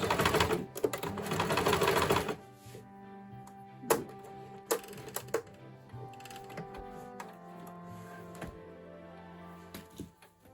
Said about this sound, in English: now do my reverse stitch